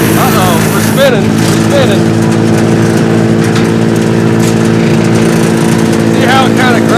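A Mechmaxx DCH7 wood chipper drones loudly and steadily while grinding dry plum tree branches, its engine roar constant throughout, with a voice talking over it.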